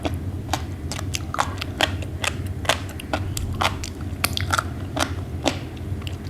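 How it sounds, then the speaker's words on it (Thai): A large, very crispy fried giant beetle is bitten and chewed up close, a run of sharp crunches and crackles coming every fraction of a second over a low background hum. "แมงกระพุนหัวกระสุนกรอบมากตัวละหนึ่งร้อยสามสิบบาท"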